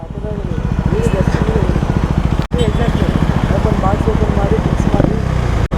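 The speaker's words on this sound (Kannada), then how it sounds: "ಬರೀ ಎಕ್ಸಾಸ್ಟ್ ಸೌಂಡ್ ಮಾತ್ರ ಕೇಳಿಸ್ಬೇಕು" A KTM Duke motorcycle fitted with a barrel exhaust idles up close, its steady rapid exhaust pulses continuous and loud, with a brief cut partway and a faint voice over the engine.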